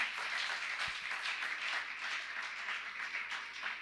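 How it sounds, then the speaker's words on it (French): A church congregation applauds together, a dense, steady wash of many hands clapping that holds at an even level for about four seconds with no talking. "Acclame très bien Jésus."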